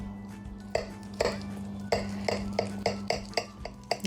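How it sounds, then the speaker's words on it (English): A knife cuts slices from a potato crust quiche and taps repeatedly against the dish or board. About a dozen sharp little clicks come in an uneven rhythm over a steady background hum, close and quiet. "Let's cut some slices out of this."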